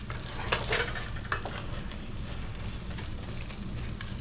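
Onions caramelizing in a pan give a steady soft sizzle, with a few brief scraping stirs near the start, close and even throughout.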